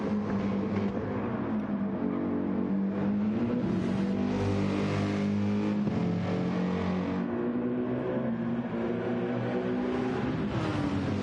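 GT3 race car engines in a sim racing game rise and fall through quick, early gear changes, the steady tonal drone stepping up and dropping repeatedly, loud and continuous with no voices.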